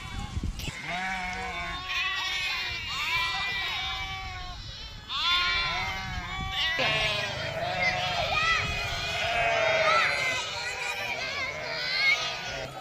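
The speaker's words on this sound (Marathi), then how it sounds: "सर्व मेंढ्याची पिल्ली सर्व मेंढ्यांना भेटलेली आहेत." A shepherd's flock of sheep and lambs bleats continuously, with many close, overlapping calls rising and falling together in a noisy chorus.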